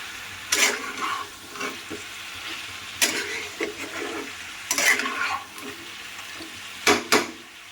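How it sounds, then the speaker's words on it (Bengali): Chicken curry with spices is stirred in a pot, a spoon scraping in a few separate bursts over a soft sizzle, close by with no talk. "এবার ঢাকনা খুলে ভালো করে নেড়ে নেব।"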